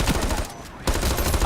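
Rapid automatic bursts from a Vector submachine gun in the shooter game Ironsight, two loud dense strings of fire separated by a short pause.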